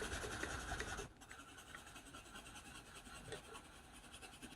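Watercolor pencil scratching steadily across paper while shading a landscape sketch of a cornelian cherry tree, a close, fairly quiet rasping texture that continues without a break, with no voices present.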